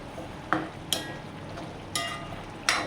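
Carrot, snake gourd and onion get stirred in a frying pan for a vegetable curry, with a soft background sizzle broken by four sharp scrapes and clinks of the spoon against the pan, close and fairly quiet.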